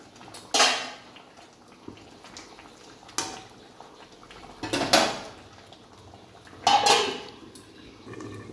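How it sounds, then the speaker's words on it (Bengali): A lid comes off a cooking pot of egg omelette curry, making a few separate metallic clanks and scrapes spread over several seconds, with a quiet simmer between them. "ঢাকনা সরালাম আবার"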